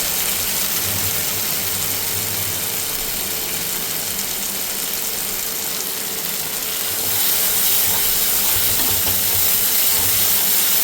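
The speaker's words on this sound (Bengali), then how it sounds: "খুব ভালো করে কষতে হবে যতক্ষণ না এই সাইডগুলো থেকে পুরো তেল বেরিয়ে যাচ্ছে" Masala for a soybean chunk kofta curry with cashews sizzles steadily in oil in a pan, a continuous close frying hiss that grows a little louder near the end.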